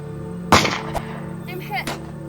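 A sharp gunshot cracks out in a western film battle scene, followed by a quieter second report and a distant third, with voices faint in the background.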